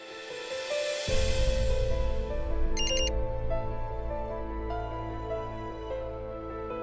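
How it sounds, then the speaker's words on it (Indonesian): A mobile phone SMS notification tone sounds as a brief bright burst of chiming beeps midway through, set against a steady background of music, with no talking. "malam-malam gini siapa yang SMS?"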